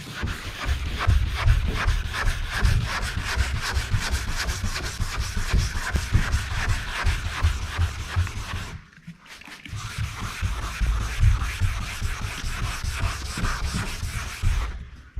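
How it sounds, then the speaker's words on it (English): Sandpaper is rubbed by hand over the body panel of a 1959 Dodge, fast repetitive scratchy strokes, close and steady, with a brief pause midway before the rasping resumes. "you just knock it right down with your sandpaper"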